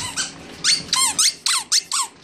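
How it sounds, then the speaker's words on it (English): A dog's squeaky toy squeaks in a quick series of about seven high, wheezy bursts, close up and clear, as a pack of dogs plays with toys from a mystery box. "Yes, we like squeaky toys"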